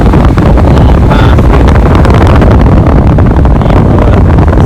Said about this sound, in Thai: อันนี้เปลี่ยนเสร็จแล้วเงียบ ก็ มีเสียงลมครับ